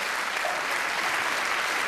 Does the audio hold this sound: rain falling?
no